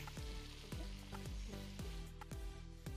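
Ghee sizzling and frying in a cooking pot, a steady crackling hiss with a series of sharp regular clanks from stirring or scraping, close and loud, no talk.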